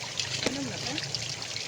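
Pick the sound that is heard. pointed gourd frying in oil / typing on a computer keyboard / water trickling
water trickling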